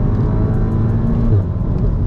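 A tuned 400bhp VW Golf R at full throttle gives a loud, continuous engine drone heard from inside the cabin, a low steady roar with no talk over it.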